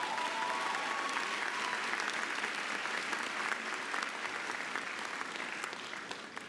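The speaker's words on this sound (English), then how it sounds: "Let's give her another round of applause." A graduation ceremony audience gives sustained, loud applause, a dense wash of many hands clapping that holds steady and then slowly tapers near the end.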